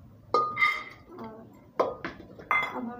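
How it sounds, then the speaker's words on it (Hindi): Soaked chickpeas and washed potatoes drop into a metal pressure cooker in a home kitchen, giving several separate clattering clinks and thuds close by, with pauses between them. "तो इन्हें मैं कुकर में डाल दूँगी"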